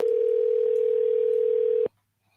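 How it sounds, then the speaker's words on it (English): A telephone dial tone holds loud and steady for about two seconds, then cuts off abruptly into near silence. "And we're going to just place this phone call real quick."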